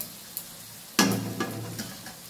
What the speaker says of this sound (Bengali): ভাজা হচ্ছে। মাছ, জিরে গুঁড়ো, ধনে গুঁড়ো, লঙ্কা গুঁড়ো, মানে কাশ্মীরি লঙ্কা গুঁড়ো, আর আদা রসুন পেস্ট।